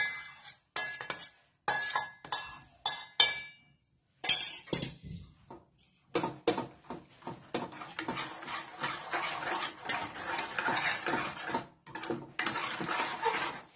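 Khandvi batter is stirred in a pan over low gas, starting with separate clinks and scrapes of a spoon against metal and then settling into a continuous close scraping stir.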